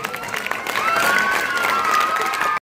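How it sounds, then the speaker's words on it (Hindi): A crowd at a political rally for candidates breaks into loud, dense applause, a steady clapping wash that swells and then cuts off abruptly, with faint voices mixed in. "आप भी जोरदार तालियों से करिए"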